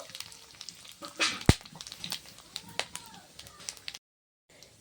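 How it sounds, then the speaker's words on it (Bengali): Whole garam masala with cinnamon, cardamom, cloves, dried red chillies and cumin sizzling in hot oil, a soft crackling fry with sporadic pops and a louder burst near the start, then a brief silence before the sizzle returns. "নিয়েছি গোটা গরম মশলা দারচিনি এলাচ লবঙ্গ শুকনো লঙ্কা সাহা জিরে সাহা মরিচ নিয়েছি তেলে দিয়ে দেবো"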